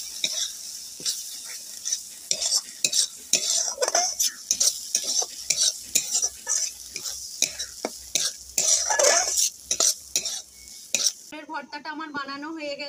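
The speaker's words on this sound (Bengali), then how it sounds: "এবার পটলটা পেঁয়াজের সাথে মিশিয়ে দেব" Mashed pointed gourd mixed with onion and fried chili-cumin is stirred in a pan, with repeated close scraping and clinking strokes of a spatula over a faint sizzle, ending in a brief different sound.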